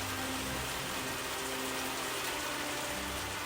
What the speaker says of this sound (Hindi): भारी बारिश होती है। ये बारिश तो रुक ही नहीं रही।